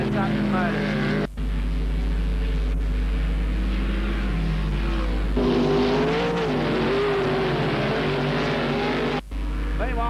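Sprint cars race at Parramatta City Raceway in 1990, a continuous loud, rasping engine roar with pitch swells as cars pass, briefly dipping twice, under a track announcer's commentary.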